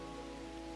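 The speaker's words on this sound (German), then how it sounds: "Das mit der Regenwolke reinige ich den See." Soft, faint rainfall from a rain cloud in the video game The Universim, a brief steady patter over a sustained tonal hum.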